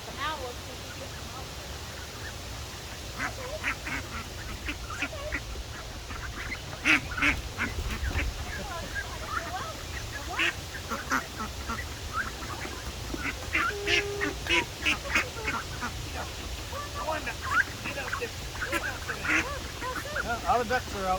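Farm ducks quack repeatedly as they are chased out of their pen on a hot day, a busy string of nasal calls mixed with a few goose-like honks, while people talk over them.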